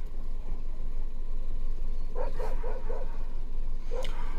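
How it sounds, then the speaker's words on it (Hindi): A lone dog in a tiger reserve barks in a quick burst of four or five yaps around the middle, then once more near the end, moderately close over steady low rumbling background noise. "और भौंक रहा है उसी डायरेक्शन में देख के, यानी कि हमारी तरफ देख के"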